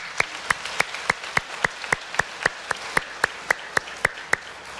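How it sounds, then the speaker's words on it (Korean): A church congregation at a Korean worship service claps together in a steady, evenly spaced beat, about sixteen sharp claps in quick succession with no voices over them. "우리 하나님께 박수로 영광 올려드리겠습니다"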